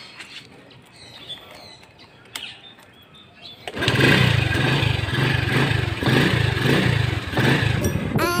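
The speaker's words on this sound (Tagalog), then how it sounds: "ito yung motor ko" Quiet surroundings with faint birds, then a motorcycle engine starts and runs loudly at a steady, rumbling idle close by.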